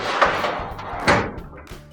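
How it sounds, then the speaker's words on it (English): The bottom drawer of a Kenmore gas range oven slides shut with a couple of thumping, rattling knocks, close by and fairly loud. "And we're going to shut our bottom drawer as well."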